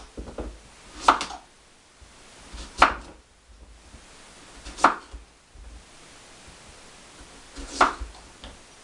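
A kitchen knife cuts butternut squash into fries in four separate sharp chops spaced a second or two apart. Each one is a crisp close thunk on the board, with quiet between.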